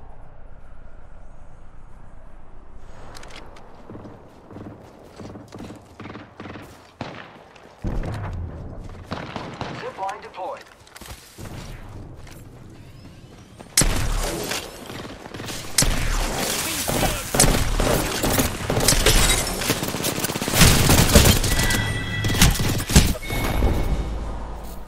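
Gunfire in a team deathmatch round of a shooter video game: sparse shots and mechanical clatter at first, then sustained loud bursts of rapid automatic fire dominating the second half.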